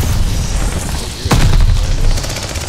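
A loud frag grenade blast in Call of Duty: Vanguard hardcore multiplayer, one sharp booming burst midway through a constant roar of nearby gunfire and battle noise.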